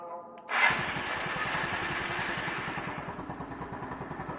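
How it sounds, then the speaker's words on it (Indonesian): A motorcycle engine starting after a remote alarm is fitted: a brief starter whir, then the engine catches and settles into a steady, close, pulsing idle. "Kita coba starter lagi."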